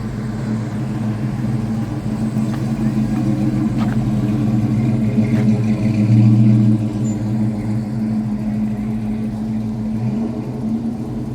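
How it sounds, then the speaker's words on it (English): Mopar Super B muscle car rumbling steadily past at a classic car cruise, with a deep low engine drone that swells briefly as it comes closest, against steady crowd and traffic noise. "Look at this nice Mopar coming in. Super B."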